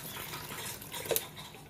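Water is poured into a pan while nopales cook, giving a brief, close splashing rush with a faint clink of cookware near the end and no talking.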